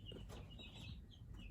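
Chickens cluck and murmur in a homestead flock where new meat chicks have joined, with soft overlapping calls over a steady low rumble of background noise.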